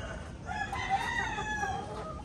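Chickens are heard on a farm where young El Maso Black pullets are kept, with a faint crowing call and soft clucking over quiet background noise.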